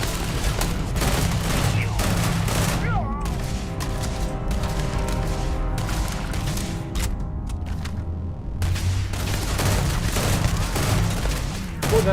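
Gunfire in the space game Starfield comes as rapid bursts of shots and sharp impacts, loud and close, packed densely at the start and end with a thinner patch in the middle.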